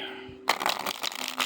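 A tarot deck with teal matte edging and soft, slightly glossy cardstock being shuffled by hand close up, a rapid rippling flutter of cards after a brief quiet start.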